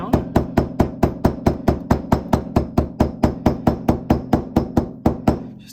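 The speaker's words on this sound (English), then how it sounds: "I'm going to use just a smooth-faced hammer and pound the threads down." A smooth-faced hammer pounds the stitching threads on a Horween Dublin leather pen sleeve in about two dozen crisp, evenly spaced strikes, close and loud, with no other sounds between the blows.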